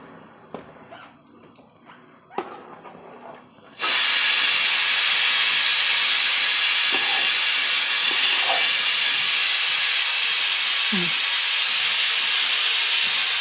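A pressure cooker steaming kappa puzhukku (boiled tapioca) lets out a sudden loud, continuous steam hiss that starts a few seconds in and holds steadily to the end, after quieter kitchen sounds.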